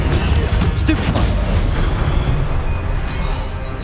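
A Stupefy spell cast in Hogwarts Legacy on PS5 bursts out as a loud, booming blast, then settles into a sustained rumbling roar that fades slightly without a clean break.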